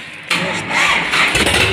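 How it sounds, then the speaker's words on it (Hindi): A Sonalika 35 DI tractor engine with a burst cylinder cranks and catches abruptly, then settles into a loud, steady, close-up running clatter. "ये देखिए जिनका ट्रैक्टर है वो जा रहे हैं चलाने।"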